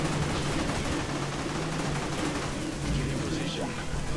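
Auto rifle fire in the video game Orion Prelude, a continuous dense rattle of rapid shots that stays loud and unbroken the whole time with no pauses.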